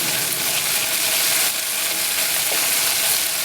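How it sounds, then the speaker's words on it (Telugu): Ginger garlic paste fries in hot oil for egg fried rice, stirred in the pan so it doesn't stick. A steady, close, dense sizzle runs throughout, with faint scraping stir sounds and no talking. "ఈ అల్లం వెల్లిగడ్డ పేస్ట్ కూడా ఈ ఆయిల్లో బాగా ఉడికేటట్టుగా ఇలా కలుపుకోవాలి"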